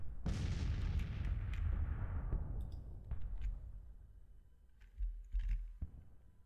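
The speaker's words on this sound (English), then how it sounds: "So artillery duel between Clark's battalion and Doubleday." Artillery fire in a Grand Tactician Civil War battle game: a loud deep boom opens, then rumbling reports and scattered distant thuds follow, with a few sharper bursts near the end.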